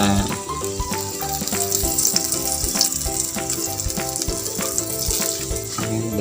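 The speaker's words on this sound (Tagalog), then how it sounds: "Nakatapos na po tayo pagpiprito ng kanduli." Kanduli fish frying in oil in a home kitchen pan, a loud, dense, continuous sizzle and crackle close by with faint clinks, no voices.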